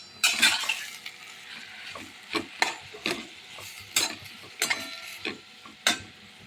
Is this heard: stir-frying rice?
yes